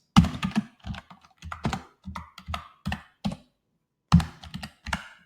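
Keys tapped on a computer keyboard while writing a test script, short clusters of close, crisp clicks in uneven bursts with brief pauses and a couple of heavier thumps.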